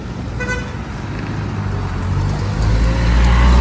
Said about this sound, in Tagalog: dito tayo sa National Highway ng Tigbawan, na kung saan dinadaanan ng maraming sasakyan